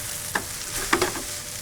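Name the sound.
par-cooked rice toasting in a pan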